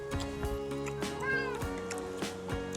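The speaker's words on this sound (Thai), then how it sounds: "มาขอกินเหรอเหมียว" A cat meows close by, with several drawn-out, wavering calls over roughly three seconds, in a seaside setting at Chumphon in Thailand. No words are spoken.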